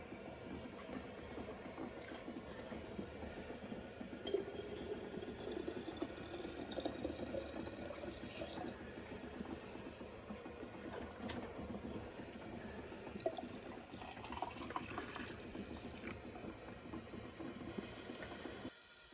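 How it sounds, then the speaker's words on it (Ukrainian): Steady trickle of water pouring into a glass jar of cherry compote up to the top for a long stretch, soft and close, with faint clinks and no talking. "оцю заливаю водою до самого верху"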